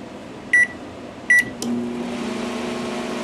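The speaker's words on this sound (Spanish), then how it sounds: "Conectamos el horno de microondas." A microwave oven gives two short beeps as its 5-second timer is set, then starts up with a steady low hum that runs on at moderate level to the end.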